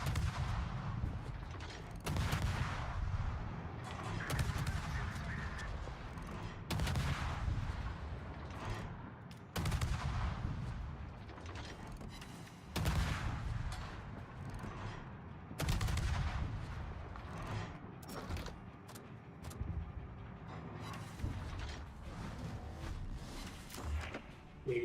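Heavy ship guns fire in naval combat in World of Warships, repeated deep booming salvos every few seconds, loud and close, with mechanical rumble between shots and no talking.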